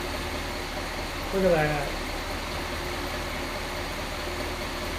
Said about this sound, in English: This thing really idles down nice.